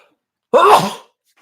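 A single sharp sneeze, short and close, bursting out of near silence.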